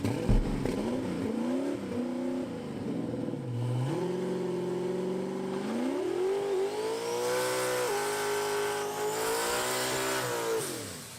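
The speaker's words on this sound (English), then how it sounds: "if you listen to the motor here, it doesn't sound happy at all" An overheating car motor revs up and down unevenly in close range. The note sags and climbs across the whole stretch, and no one speaks over it.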